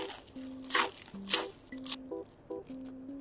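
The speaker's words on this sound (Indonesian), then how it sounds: "ini kriuk nuggetnya masih kerasa banget padahal udah kena sambal" Crispy chicken nuggets coated in sambal being chewed close up, with three or four loud, crackly crunching bites over a soft, tonal musical backing.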